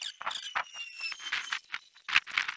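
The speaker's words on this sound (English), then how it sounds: "That's the sound of an empty bottle." An empty plastic bottle of differential fluid is squeezed while pouring into the rear differential of a 2007 Dodge Dakota, giving a run of short squeaky squeals and crinkles in uneven bursts, close and fairly quiet.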